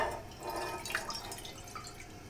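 Water running and dripping into a pot on a gas stove while making Italian zeppole dough, a steady close trickle with a few brighter splashes and drips throughout.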